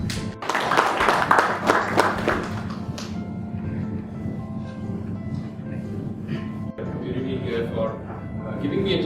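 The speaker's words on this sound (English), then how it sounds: "So let's give a big round of applause." Audience applause at a TiE talk on design thinking: a burst of dense clapping for about three seconds, then it quickly dies away into a low, steady room hum.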